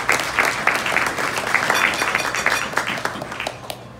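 Dense audience applause at an installation ceremony, loud and close at first, then slowly thinning into scattered individual claps toward the end.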